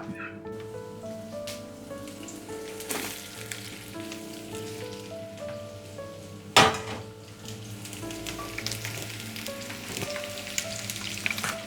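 Chopped onions sizzle steadily in ghee for several seconds, a close, even crackle with faint background tones and one sharp knock partway through, no one speaking.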